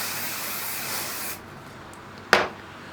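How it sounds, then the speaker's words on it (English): A hairspray aerosol sprays onto hair set in jumbo velcro rollers: a steady close hiss that stops after about a second, then one short, sharp puff. "Bit of hairspray."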